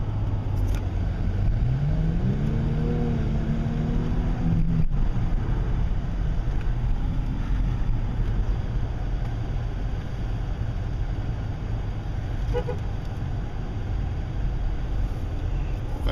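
Cars move through traffic close by, with a low, steady engine drone and one vehicle's engine note climbing as it accelerates near the start, continuing as a constant rumble throughout.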